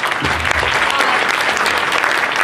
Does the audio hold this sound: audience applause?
yes